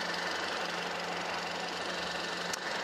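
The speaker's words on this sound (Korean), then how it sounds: "굉장히 정숙한 그런 엔진 소리를 들려주는 엔진인 것 같습니다" A Hyundai i30 turbo engine idles with a steady, even hum and a faint mechanical clatter, close by and without talking.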